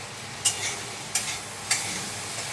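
Vegetables frying in a pan, with a soft steady sizzle and three sharp scrape-like stirring strokes spaced evenly apart, close and moderately loud, and no speech.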